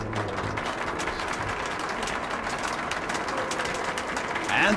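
An in-game crowd cheers and applauds the heroes at an exhibition show in the video game Metro: Last Light, a dense, steady wash of clapping under a speaking voice.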